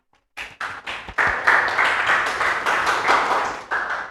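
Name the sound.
class clapping hands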